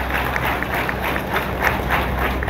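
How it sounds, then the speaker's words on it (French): Audience applause at a student political gathering, a short burst of many hands clapping at a moderate distance, steady and even with no voices over it. "Je vous prie de les applaudir s'il vous plaît."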